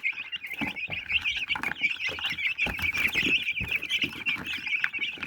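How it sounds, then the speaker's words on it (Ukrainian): Crested hens and young roosters on a farm cluck and chatter continuously at close range, a busy overlapping flock sound with scuffling underneath. "Ось такі гарні активні курочки. Ну і, звичайно, є півники від наших чубатих курей."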